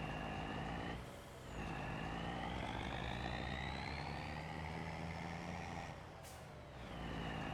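A heavy truck in Farming Simulator 25 hums along with a steady, loud engine drone and rising-and-falling gear whine, briefly dipping twice and punctuated by a hiss near the end; no voices.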